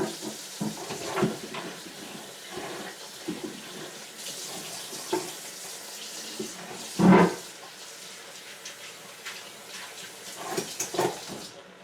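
Tap water runs into a cooking pot during preparation of vegan cream of cauliflower soup, a soft continuous splashing with a few clinks of pot and utensils and one sharper knock partway through.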